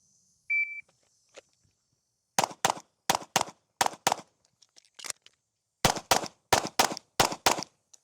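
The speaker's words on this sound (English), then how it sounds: "I'm gonna fire 2 rounds on each, and then I'm gonna reload, and then I'm gonna fire 2 rounds on each once more." Pistol shots in an El Presidente drill: a timer beep, then two rapid bursts of sharp, loud reports in pairs, a short pause for a reload, then another string of paired shots, all close and crisp.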